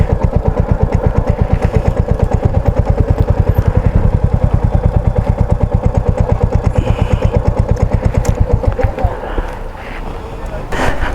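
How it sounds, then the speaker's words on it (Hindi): Motorcycle being parked in a mountain village main market, its engine idling with a steady rapid thumping pulse, loud and close, then dropping off near the end as a person talks over it. "तो चलिए जी, यहाँ लगाते हैं बाइक।"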